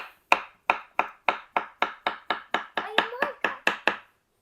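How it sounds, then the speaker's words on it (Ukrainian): A knife chops carrots into rings on a board in a home kitchen, about fourteen sharp, evenly spaced chops close up, with a brief faint voice near the end. "Нарізаємо моркву колечками."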